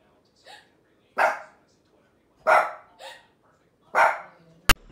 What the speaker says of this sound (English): They went back to barking again.